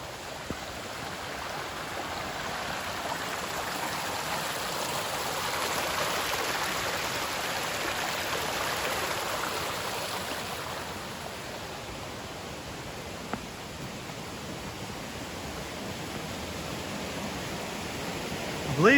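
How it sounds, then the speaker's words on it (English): Twenty Mile Creek in the Great Smoky Mountains flows steadily nearby, giving a soft, even rush of water that holds at a constant, moderate level with no voices over it. "I believe this is 20 Mile Creek again"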